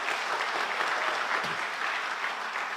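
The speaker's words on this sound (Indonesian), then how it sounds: "Beri tepuk tangan lagi buat Tuhan kita." Church congregation applauding during a Sunday worship service, steady dense clapping throughout, fairly loud and close, with no talk over it.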